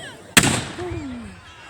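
A single cannon shot goes off with a sharp, loud blast, then rumbles away into a fading echo over about a second.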